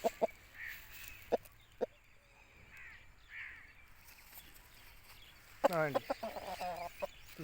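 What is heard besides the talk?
Aseel rooster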